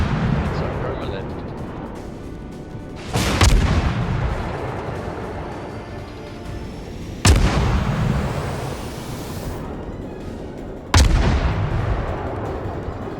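Warship guns firing in a naval video game, three heavy booming salvos spaced several seconds apart over a continuous rumbling battle background, with people talking throughout.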